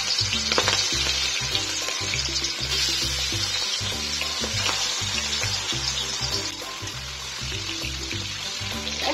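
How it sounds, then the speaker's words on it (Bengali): Prawns frying in a little oil in a wok for egg fried rice, a continuous close sizzle with spattering bursts, layered with a steady low rhythmic hum in the background, no voices. "চিংড়ি মাছটা ভেজে নেব।"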